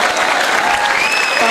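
Hindi comedic poetry gathering audience clapping together, a dense, loud burst of applause that fills the short moment from start to finish.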